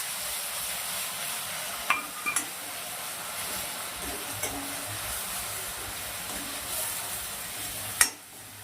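Crushed onion frying in a pan for a tuver totha dish, giving a steady broadband sizzle throughout with a few faint clicks of a stirring utensil.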